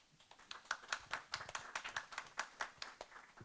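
Applause from a small audience for a panel discussion: scattered, fairly quiet hand claps in an uneven rhythm, with no voices over them.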